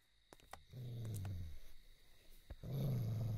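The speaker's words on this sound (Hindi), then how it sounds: "इधर तो इंसान से ज्यादा कुत्ते हैं।" Dogs growl and snarl in low, rumbling bursts, one longer growl followed by another after a short pause, close and fairly loud with a few sharp clicks between.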